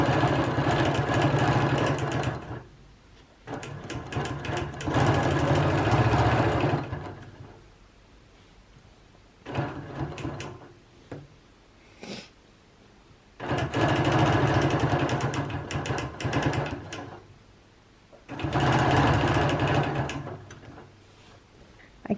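A Bernina Q16 sewing machine stitching in free motion quilting runs in steady bursts of a few seconds each, with short quiet pauses and light handling noises between them and no one talking.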